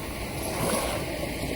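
Sea waves wash onto a Karnataka beach in a soft, continuous rushing hiss, heard from a moderate distance and fairly quiet, with no voices.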